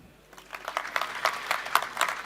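An audience at a talk on rural data and communication technology in Argentina breaks into applause after a presentation, the clapping starting thin and swelling into a dense, steady patter over a couple of seconds.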